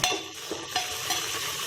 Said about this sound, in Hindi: प्याज को हमें अच्छे से सौते कर लेना है। बिल्कुल गोल्डन ब्राउन होने तक हमें इसे भून लेना है।